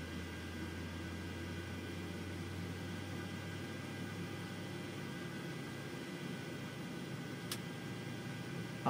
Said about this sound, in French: Le moteur se lance tranquillement.